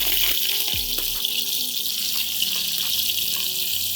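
Garlic and three green chillies sauté in hot oil with mustard seeds and cumin, giving a steady, bright sizzling hiss with faint clicks and a few low knocks throughout.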